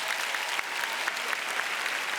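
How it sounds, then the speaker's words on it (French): A comedy-show audience applauds in a steady, dense wash of clapping that stays even and loud throughout, with no voices over it. "On applaudit"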